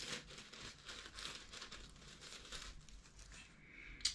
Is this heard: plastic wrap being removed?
yes